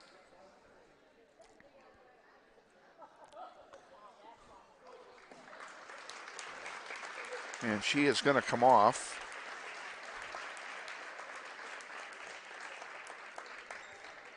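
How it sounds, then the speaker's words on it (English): A crowd at a girls' high school basketball game at Lawrence Free State applauds a player leaving the court, the clapping swelling midway and holding steady. A commentator talks over the start, and a brief louder burst of sharp, rhythmic clapping rises near the peak. "the crowd gives her a very nice round of applause"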